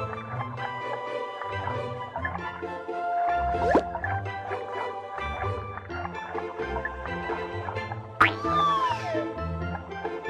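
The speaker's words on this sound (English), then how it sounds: "To help Elmo swim and pop the bubbles, tilt your Wii remote." Bubbles pop in a Sesame Street Wii swimming game, giving bouncy boing and plop effects over cheerful continuous game music, with a brighter rising pop near the end.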